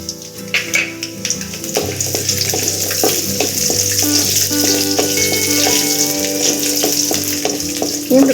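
Garlic sizzles steadily in hot oil for curry leaf rice, along with urad dal and chana dal, with a loud, continuous frying hiss and scattered taps and stirs from a spoon against the pan.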